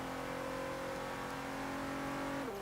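A turbocharged Logitech G car in Forza Horizon 3 holds a steady, droning engine note with clear harmonic tones, then the pitch dips sharply near the end as the revs shift.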